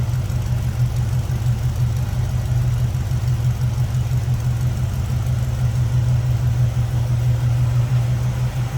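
A 1967 Chevrolet Camaro idles in neutral, its engine giving a steady, loud low rumble with an even, unbroken pulse close to the listener and no talking.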